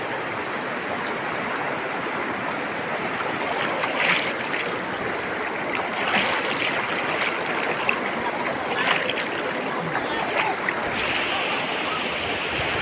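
The Isap River in Bongabong, Mindoro rushes past with a strong current, a steady loud broadband wash of flowing water over rocks, with occasional splashes and faint voices in the background.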